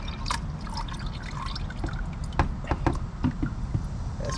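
Old coolant, a clumpy mix of orange and green, drains from the cooling system of a 2004 Chevy Silverado in a steady liquid trickle with a few sharper drips and splashes close by. No one speaks.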